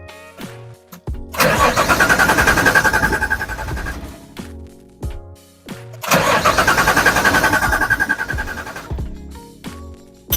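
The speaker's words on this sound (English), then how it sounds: "We're gonna prime the engine now with oil, and I'll show you guys what that sounds like" A Nissan 300ZX engine cranks on its starter to prime oil, with the fuel pump off, in two long bursts of about three seconds each, a loud rhythmic churning that never catches, with brief pauses between.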